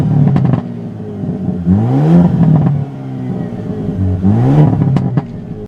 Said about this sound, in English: There's just something about some good exhaust noise that just gets me.